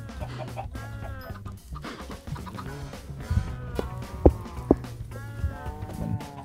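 Chickens in the video game Minecraft give a string of short, throaty clucks in irregular bursts, a few sharper accents standing out, over faint background game sound.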